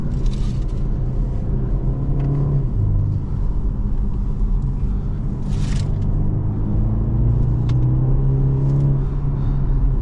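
A 2022 BMW 430i Gran Coupe accelerates under power in sport traction mode, a steady loud engine drone and road rumble with pitch that rises and shifts over several seconds.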